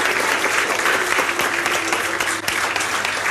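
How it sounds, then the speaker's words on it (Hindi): A room full of people gives a loud welcome round of applause for a teacher, Ram Kumar sir, with dense, steady clapping that holds strong from start to finish and no voices over it. "जोरदार तालियों से स्वागत करो।"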